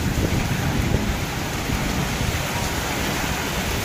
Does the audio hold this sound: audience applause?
no